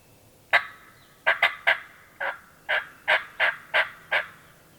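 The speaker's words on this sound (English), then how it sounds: "He just gobbled again." A wild turkey tom on Virginia public land gobbles from a distance of roughly 150 to 200 yards, giving a series of about nine sharp, rattling bursts in the open woods.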